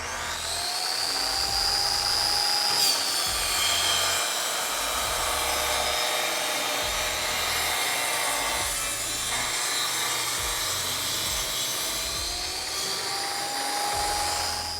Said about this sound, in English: my first step here is gonna be cutting down my 4-foot by 8-foot sheet of plywood